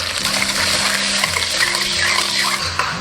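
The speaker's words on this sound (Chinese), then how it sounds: "锅中倒少许食用油，加入小半碗白糖，小半碗清水。" Water pours into a pan holding a little cooking oil and sugar, a short gushing, bubbling splash with low sizzling tones, close and fairly loud, heard alone.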